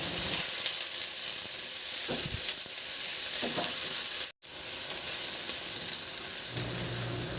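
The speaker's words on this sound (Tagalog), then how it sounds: "Magpainit na rin ako ng mantika at igisa ko na yung bawang. Igisa ko na rin yung sibuyas." Garlic and onion sauté in hot oil for a chicken corn soup, a loud, continuous close sizzle that cuts out for an instant partway through, then resumes unbroken with no talking.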